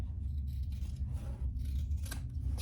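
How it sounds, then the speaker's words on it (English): Scissors snip the corners of waxed canvas being prepped for binding: a few crisp, close cuts over a dull, steady background rustle. "trim my corners because I'm prepping this for my binding"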